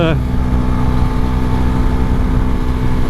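A Husqvarna Svartpilen 401 motorcycle engine screams at high revs against its rev limiter, a loud, close, sustained buzzing drone that barely wavers.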